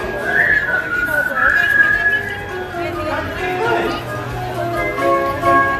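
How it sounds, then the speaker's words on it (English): A crowd whistles a cheerful tune together on a Disney ride at Magic Kingdom, several wavering melodic lines overlapping amid light chatter and ride ambience. "Now you all whistle while we work."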